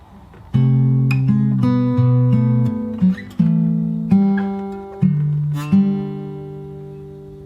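Fingerstyle acoustic guitar picks two bars of a song from Aladdin, with clear plucked notes and sustained chords ringing out alone at close range.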